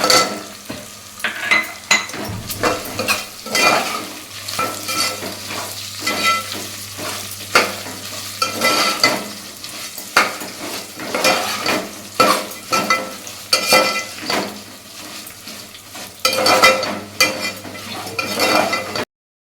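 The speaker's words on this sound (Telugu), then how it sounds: "అలాగే అదే కాగిన నూనెలోనే వేసేయాలండి. అలాగా ఈ కొద్దిగా వేగిన తర్వాత ఎండుమిరపకాయలు" Dried red chillies fry in hot oil for a ginger pickle, with a continuous crackling sizzle broken by repeated scraping stirs of a spoon against the pan throughout.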